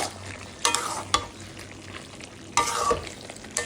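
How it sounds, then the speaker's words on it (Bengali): A fig curry with garam masala is stirred in a pan, giving a low sizzle under a few louder bursts of scraping and clattering from the spoon. No one speaks. "এখন এগুলো সব মিশিয়ে নেব"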